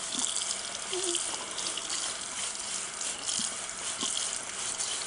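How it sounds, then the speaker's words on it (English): Fresh ears of corn are scrubbed with a brush under a running kitchen tap to clear off the silks, with a steady, loud gush of water throughout. "We're going to take a brush, and we're going to wash this silks off of it."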